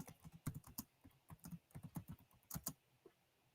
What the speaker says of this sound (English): I hear you furiously typing there, Azo